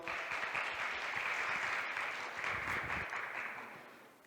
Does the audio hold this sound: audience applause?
yes